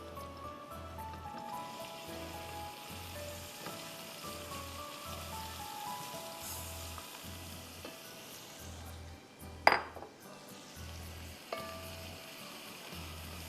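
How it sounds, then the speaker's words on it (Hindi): A cup of chopped onion fries in a pan for Banarasi pulao with a chicken cube, giving a soft, steady sizzle throughout. A regular low thumping pulse runs underneath, and a sharp utensil clink comes near the end. "प्याज को मुझे लाइट गोल्डन करना है।"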